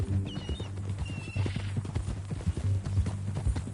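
Horse hooves clip-clop steadily over ground in the Red Dead Redemption 2 video game, a close rhythmic patter of footfalls with a faint whinny early on.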